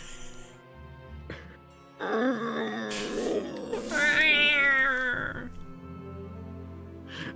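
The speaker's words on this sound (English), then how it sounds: "That just sounds like a cat that doesn't want to exist." Cat-like yowling from a video game, a drawn-out wavering wail with rising, quivering pitch over a few seconds, fairly loud against softer game sounds.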